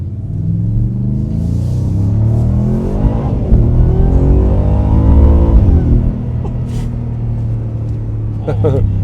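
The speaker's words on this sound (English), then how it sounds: "Get a little back burble in the exhaust." A Ford F-150 Raptor R pickup's engine revs up and settles with a deep, loud exhaust rumble and burble heard from inside the cab, rising in pitch and dropping back, with people talking over it.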